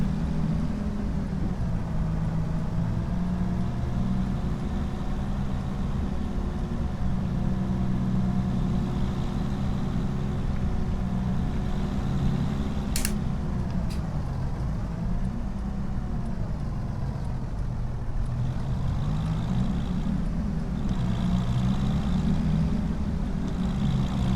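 Steady tractor engine running in a farming video game, a continuous low droning rumble at even loudness with slight shifts in pitch, plus a couple of faint clicks partway through.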